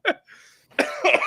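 Two harsh, close coughs come in short bursts with a soft breathy sound between them during a baseball broadcast chat.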